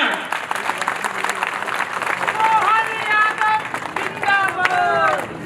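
Crowd applause at a political rally in Kolaras, Badarwas area, a sustained dense clapping from a large audience with cheering and a speaking voice over it.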